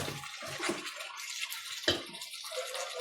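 Water pours into a cooking pot that already holds meat, a steady broad splashing rush running the whole time with a brief sharp clink partway through, fairly close and with no talking.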